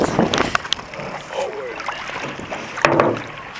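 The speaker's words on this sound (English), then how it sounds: "No, paddle. We're gonna paddle." Paddles dipping and pulling a canoe through water outdoors, with close splashy strokes and wind noise on the microphone, while people talk over the paddling.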